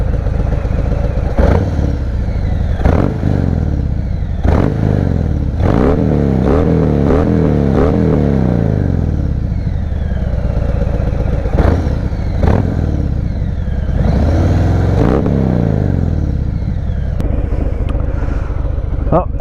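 Riding a 2018 Harley-Davidson Fat Bob fitted with Vance & Hines slip-on exhausts, a loud close engine rumble rising and falling through repeated revs and gear changes, with wind noise and a voice talking over it.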